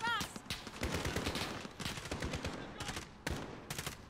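Rapid bursts of gunfire from a Call of Duty Modern Warfare battle on Veteran difficulty, dense and sustained shots with short gaps, loud and close.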